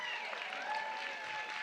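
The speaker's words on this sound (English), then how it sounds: "Give a round of applause." Room-wide applause for donors at a summer benefit gala, a soft, steady patter of many hands heard from a distance, with faint sustained tones ringing through it.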